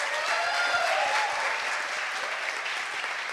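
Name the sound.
round of applause for the secretary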